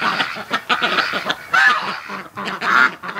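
A Muscovy duck at a hatching pen gives a run of rough, breathy calls, loud and close, with brief tonal squeaks mixed in.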